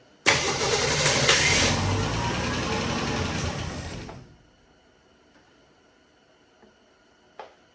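A one-family survivor 1968 Ford Mustang found in a garage cranks hard in a loud, steady churn for about four seconds, then cuts out, leaving near silence with a faint click near the end.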